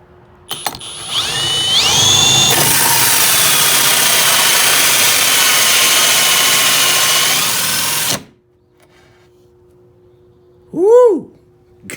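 A power drill with a hole saw whines up to speed and grinds steadily through a wooden cornhole board for several seconds, loud and close, then cuts off, followed by a brief exclamation.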